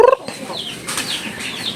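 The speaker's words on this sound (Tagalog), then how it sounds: "ito na mga manok." Chickens cluck and squawk close by, a quick burst of sharp calls at the start followed by a steady scratchy clatter of birds.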